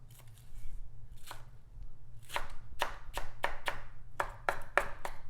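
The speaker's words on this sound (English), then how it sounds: "Run a knife through some of this." A knife chops through smash burger ingredients on a cutting board, about a dozen crisp, sharp chops, sparse at first and then quicker and steadier, close and clear over a low hum with no talk.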